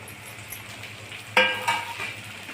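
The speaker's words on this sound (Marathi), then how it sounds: "आता आपण टमाटा घालत आहोत." Tomatoes go into a pan of frying rava upma with green chillies, giving a close, sharp sizzle burst followed by brief stirring scrapes over a low background.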